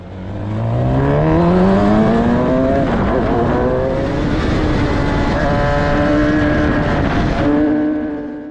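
An F4 race car roars past on the Donington Park track, its engine pitch climbing through several gear changes at loud close range before fading slightly.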